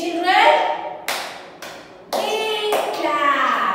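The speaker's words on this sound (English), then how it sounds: "So are you all clapping?" Children clapping along during a jungle animal story session, a few sharp bursts of hand claps close by, mixed with young voices talking.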